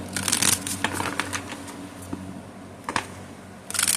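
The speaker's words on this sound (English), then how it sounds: "Let me give y'all a really good shuffle." Tarot cards shuffle in quick riffling bursts, close and crisp, with a few soft taps and pauses between, no talking over them.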